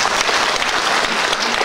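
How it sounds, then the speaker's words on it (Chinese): An audience applauds the teachers after a successful choir concert, a steady, dense wash of clapping holding at an even level throughout the short stretch, with no voices over it. "我们也掌声给他们这些几位老师一些感谢"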